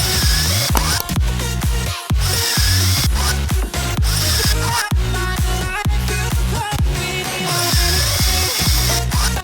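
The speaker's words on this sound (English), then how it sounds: "Then drill the pilot hole." A power drill bores a pilot hole into a clamped wooden 4x4, a loud close whine running in repeated bursts with short pauses between.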